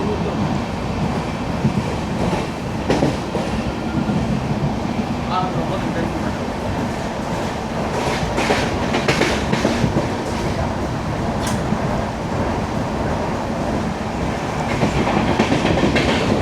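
A BCN goods train loaded with cement at Palakkad Town pitline, heard as a steady loud rumble with clattering wagon noise throughout, mixed with faint voices.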